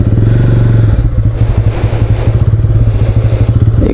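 A motorcycle ridden on an off-road trail toward Mel Khum in Chittagong, Bangladesh, its engine loud and close with a steady throbbing idle that rises into rhythmic revving surges as the bike works over rough ground.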